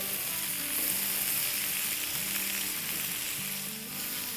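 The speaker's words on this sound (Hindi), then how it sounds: "और इसको सॉटे करेंगे।" Cabbage sautéing with coriander, cumin and red chili powder in a pan sizzles loudly and continuously, with rhythmic scraping strokes of stirring repeating throughout.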